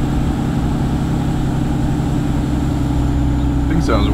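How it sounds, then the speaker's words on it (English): Cummins diesel truck engine running steadily and loud with a strong low-frequency drone throughout, an exhaust brake holding the engine back, and a brief higher squeal rising near the end. "Exhaust brake."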